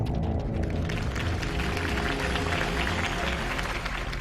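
Dense crowd applause with cheering from the Batman Telltale video game, loud and continuous throughout, backed by a low rumble.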